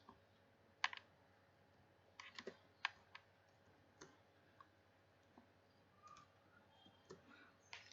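Faint, scattered computer clicks sound during a spreadsheet session, single sharp taps and short bursts spaced irregularly over a quiet room hum.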